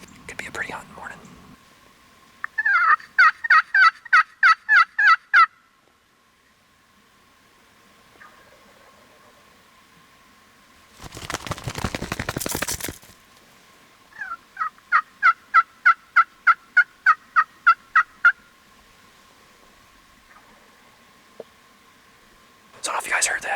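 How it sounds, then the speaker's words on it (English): Wild turkeys gobble in two bursts of rapid, rattling calls from a short distance off during an eastern Iowa spring hunt, with a brief rush of noise between the bursts and low whispered talk nearby. "Got 2 or 3 to gobble finally."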